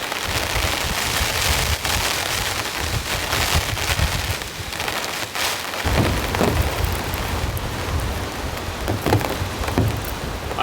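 Heavy rain pounds a camping tarp during a thunderstorm, a loud, dense, unbroken hiss of drops with deep thunder rumbling through it, heard close and without voices.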